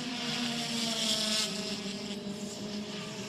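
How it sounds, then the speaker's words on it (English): WTCC touring car engines roar and whine at high revs at the Hungaroring during a 2014 race, a continuous mechanical drone with shifting pitch, heard from on board. "if we can listen to their engine notes here briefly"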